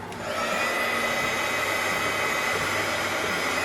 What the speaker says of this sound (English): I'm gonna heat gun that